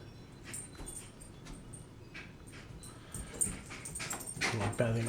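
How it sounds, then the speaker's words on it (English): A dog moves around indoors, whimpering softly in brief bursts, with faint movement sounds and a louder whine near the end over a steady room background. "Apologize for my dog walking."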